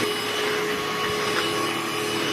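A Kärcher VC 4 cordless stick vacuum cleaner with a rotating brush runs at a steady, loud whine, an unbroken motor drone with no pauses.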